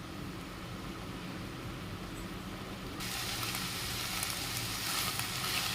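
Ivy gourd stir-frying in a pan, a steady soft sizzle that grows noticeably brighter and louder partway through and then holds at that level, with no talk over it.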